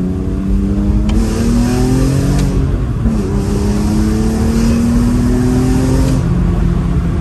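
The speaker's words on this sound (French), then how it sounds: "même avec le silencieux Super Sprint, ça fait un son, mais le son n'a pas été dénaturé" A BMW M3 E46 engine breathing through a Super Sprint exhaust muffler revs repeatedly, loud and close, each rising sweep dropping back before climbing again, alone without talk.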